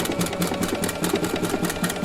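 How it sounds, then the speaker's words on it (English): A Husqvarna Viking sewing machine with a circular attachment runs a serpentine stitch, its needle chattering in a fast, even mechanical rhythm close by. "I'm going to start to stitch, and this is the serpentine stitch."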